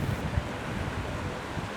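Ocean surf rumbles as barreling waves break over shallow ankle-deep water, a continuous roar with heavy wind buffeting the microphone and no talking.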